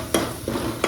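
Freshly grated coconut roasting in a pan with turmeric and spice powder, a soft continuous sizzle broken by three scraping stirs of a spoon against the pan, close and fairly loud, no talking.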